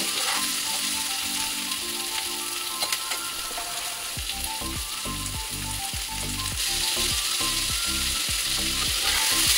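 Cut ridge gourd sizzles and fries steadily in a pan, with repeated rhythmic scraping and clattering as it is stirred and mixed, the frying loud and continuous throughout.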